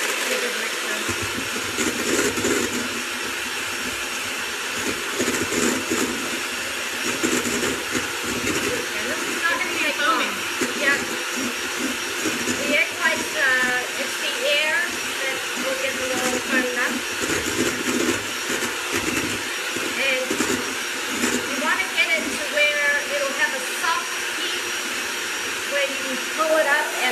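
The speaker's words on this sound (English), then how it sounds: "Give it a mixer." An electric mixer whipping pavlova meringue runs as a steady loud whir throughout, with people talking and exclaiming over it.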